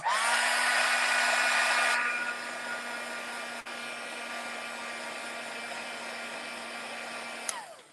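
A handheld hair dryer blows over wet paint on a painting, a loud steady whirring hum running alone for several seconds, with its pitch and strength dropping partway through before a click at the end.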